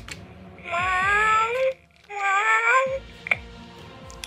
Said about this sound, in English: Is that a cat or someone pretending to be a cat?